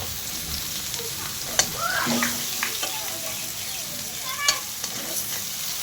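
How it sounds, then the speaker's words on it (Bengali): Eggplant fries in hot oil with a constant close sizzle, punctuated by a couple of spoon scrapes and clicks against the pan. "তোমরা যে তেলটা দিয়ে বেগুনটা ভাজা শুরু করেছো"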